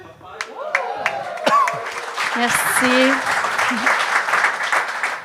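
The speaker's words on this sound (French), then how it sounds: "Tous ces applaudissements servaient absolument à rien" Studio audience applause on a French-language comedy talk show, a broad steady wash of clapping that carries through the clip while someone speaks over it, adding a brief thanks near the start.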